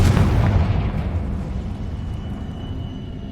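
A Confringo blasting spell from Hogwarts Legacy goes off in a cavern with a single loud, close boom that rumbles and fades over a few seconds.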